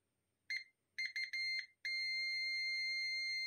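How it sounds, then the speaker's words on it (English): Several short electronic beeps in quick succession from a multimeter in continuity mode testing relays, then one sustained high-pitched tone that holds steady, clean and close against a quiet background. "you should hear the beeping"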